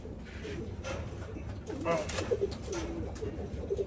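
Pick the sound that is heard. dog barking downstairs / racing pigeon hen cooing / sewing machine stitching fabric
racing pigeon hen cooing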